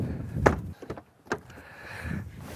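A rear door of an Audi A4 S Line being opened and shut by hand: a few close clunks and latch knocks spread over a couple of seconds, with quiet background in between.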